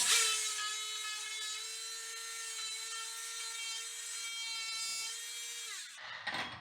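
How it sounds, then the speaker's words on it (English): A Dremel rotary tool spins at a high steady whine while cutting around a toilet flange, holding pitch for several seconds before slowing and stopping, followed by brief handling noises. "I can take the Dremel here and carefully"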